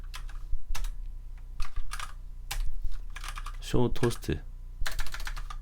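Code is typed on a computer keyboard in short, irregular bursts of clicky keystrokes, close by and under a man's intermittent speech.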